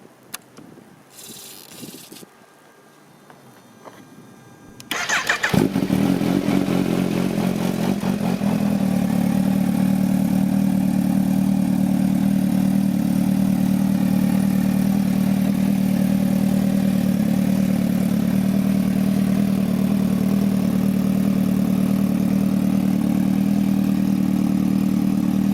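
A 2015 Kawasaki Ninja H2 motorcycle engine fires up after a few quiet seconds of handling noise, then settles into a loud, steady, close idle that continues to the end.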